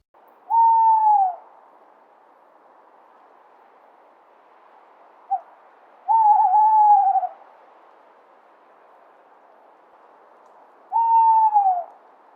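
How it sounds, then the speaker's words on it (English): An owl hoots three times, each call a single drawn-out, slightly wavering note about ten seconds apart, clear and close over a quiet background, with a faint click between the first two calls. "Owl."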